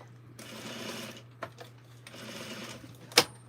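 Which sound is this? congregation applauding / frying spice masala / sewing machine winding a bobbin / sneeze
sewing machine winding a bobbin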